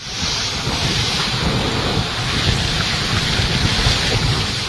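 Typhoon Nika making landfall over Aurora and Isabela in the Philippines: loud, steady roar of driving rain and wind with deep thunder rumbling throughout, no voices.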